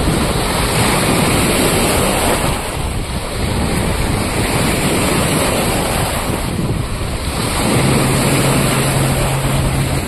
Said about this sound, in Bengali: আর জলের ঢেউয়ের শব্দ নিশ্চয়ই আপনারা শুনতে পাচ্ছেন।